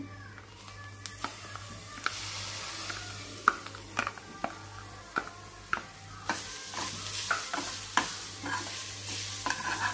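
Grated coconut added to cooked grated carrot, stirred and frying in a pan, steady soft sizzle with repeated scraping clicks of the spoon against the pan.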